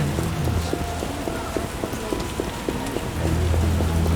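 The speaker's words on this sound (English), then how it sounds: "Rains." Steady video game rain in The Witcher pattering on a surface, a dense even hiss, with a faint rhythmic tonal pattern running underneath.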